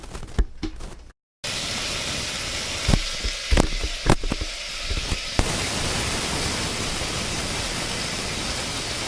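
Food frying in a pan gives a steady sizzle with a few sharp crackles and clicks early on. The sizzle then settles into a continuous hiss of even loudness, with no talk.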